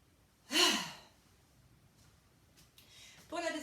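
A deep breath taken during a stretching exercise, one clear close inhale followed by a sighing breath out, then soft breathing noises, with no talk over it.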